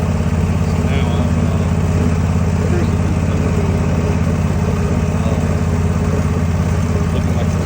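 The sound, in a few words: backpack leaf blower engine running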